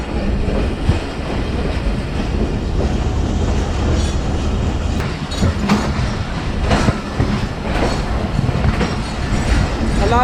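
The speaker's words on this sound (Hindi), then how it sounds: "हमारी गाड़ी रावलपिंडी के रेलवे स्टेशन से डिपार्ट कर रही है।" The Jaffer Express pulls out of Rawalpindi railway station, wheels clattering steadily over rail joints with a continuous rumbling roar and occasional metallic squeals, close and loud throughout.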